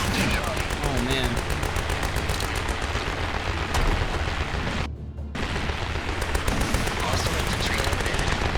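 Gunfire in the diesel-punk strategy game Grit & Valor: dense, continuous bursts of machine-gun fire and explosions, loud and close, with a brief dropout midway before the barrage resumes.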